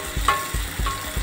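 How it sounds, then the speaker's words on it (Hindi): Finely chopped, grated bottle gourd hits hot oil for lauki bharta, with a steady close sizzle and soft rhythmic stirring bumps and no voices. "अब इसमें हम डाल देंगे ये लौकी जो हमने कद्दूकस करके रखी हुई है चॉप करके बारीक।"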